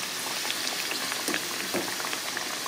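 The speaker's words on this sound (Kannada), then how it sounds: "ಅದ್ರ ಮೇಲೆ ಲೋ ಫ್ಲೇಮಲ್ಲೇ ಫ್ರೈ ಮಾಡ್ಬೇಕ್ರಿ ನೀವು" Badam puri fry in oil over a low flame, giving a soft, steady bubbling crackle with tiny pops throughout.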